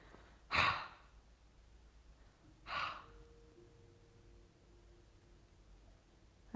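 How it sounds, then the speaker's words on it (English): During a yoga breathing exercise, two soft open-mouth exhales, like fogging a mirror, come as breathy hushes about two seconds apart in a quiet room. "open up your mouth and breathe onto the mirror like you're trying to fog it up. So you're making a sound with your breath."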